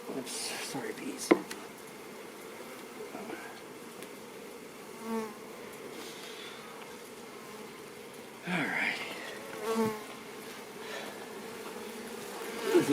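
Honeybees buzz around an opened backyard hive as the top box is separated from the bottom, a steady low insect drone running throughout with a few louder swells and brief handling knocks.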